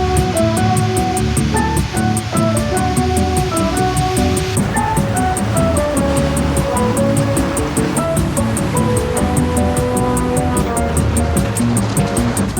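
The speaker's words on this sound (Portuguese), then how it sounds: "Altas ondas, hein, Rose?" Ocean surf in California breaking and washing steadily, a loud continuous rushing roar of waves with no pauses.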